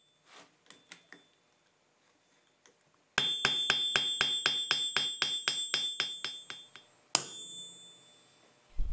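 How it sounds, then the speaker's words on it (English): A heated steel armour buckle is flattened with a hammer on an anvil: a few light taps, then a rapid run of sharp, ringing metallic strikes close up, and one final louder blow. "The buckle is then heated to give it a uniform blackened color and flattened out on the anvil."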